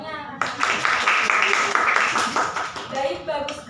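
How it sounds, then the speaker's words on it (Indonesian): A classroom group gives a short burst of applause, many hands clapping quickly and close by for a few seconds, with voices mixed in. "Tepuk tangannya."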